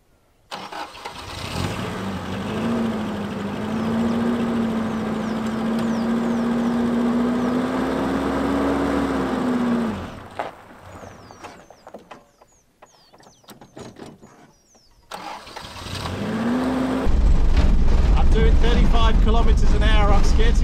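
A small borrowed van's engine starts and runs on outback roads near Mungo, a steady mid-pitched drone with a break partway through, then a louder restart; a voice talks over it.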